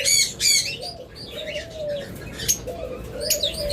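A pair of opaline lovebirds chirps in quick high bursts, close by and moderately loud, with brief flutters between calls and no voices.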